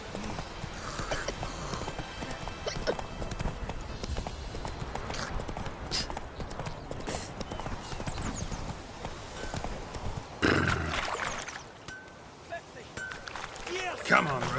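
Horse hooves clip-clop at a steady galloping rhythm on a road in The Witcher 3, with faint harness jingle, close and continuous beneath a man's spoken lines, before slowing near the end.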